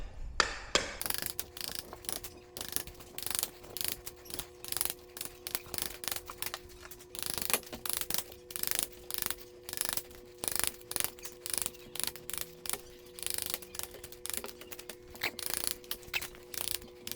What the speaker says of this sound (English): go right where it's nailed into the concrete and just pop those up, and they come up pretty easily